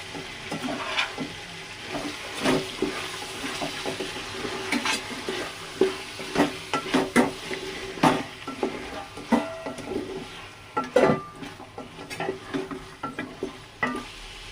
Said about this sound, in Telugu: 2 స్పూన్లు అయితే అల్లం వెల్లుల్లి పేస్ట్ వేసుకుని తిప్పుకోవాలి ఒకసారి